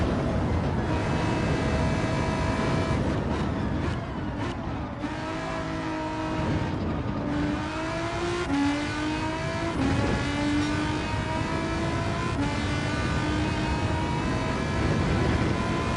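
A VW GTI Vision Gran Turismo car in Gran Turismo 7 screams through a loud, piercing high-pitched engine note, revving and rising through the gears with repeated upshifts, with no talking over it.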